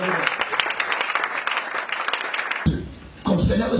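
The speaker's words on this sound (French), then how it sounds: "Acclamons pour eux." A church congregation breaks into sustained applause during a worship service, steady clapping filling the room before a brief dip and a renewed swell of clapping near the end.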